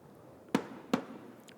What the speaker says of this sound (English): 2 sonic booms